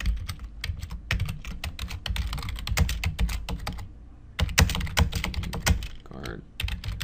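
Rapid, steady typing on a computer keyboard, including shortcut keys such as Shift F2 and Escape, while building a spreadsheet financial model. Close, crisp clicks run throughout with brief pauses between bursts.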